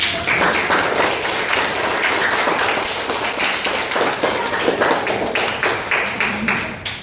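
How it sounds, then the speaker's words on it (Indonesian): A classroom full of people claps steadily and loudly for several seconds, the applause dense and even before tapering slightly at the end. "Oke, beri tepuk tangan."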